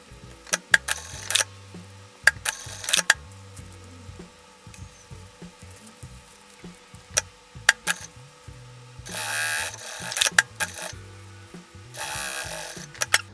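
Sewing machine stitching a seam along the top edge of a toiletry bag, with bursts of rapid mechanical whirring and clicking, pauses and handling noises between runs, close and without speech.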